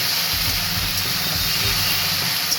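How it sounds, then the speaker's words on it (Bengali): Okra fries in a pan, giving a steady loud hissing sizzle with no pauses or voices. "এই যে বসিয়ে দিয়েছি ঢ্যাঁড়স ভাজা"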